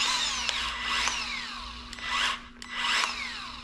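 A grease gun forces grease into a Ford Mustang control arm, making a whining mechanical drone in close, loud bursts that dip briefly between pushes. No one speaks over it.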